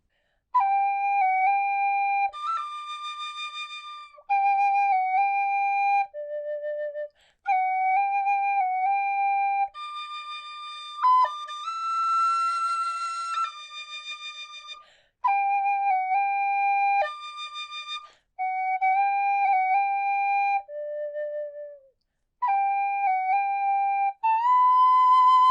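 A C tin whistle plays the Braveheart theme alone, clear, pure notes in slow sustained phrases separated by brief pauses, close and bright, with a few quick ornamental flourishes.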